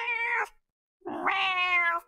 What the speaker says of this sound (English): Now we need our cat meow.